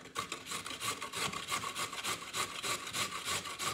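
A carrot is grated by hand in quick, rhythmic rasping strokes, close and steady, with no voices.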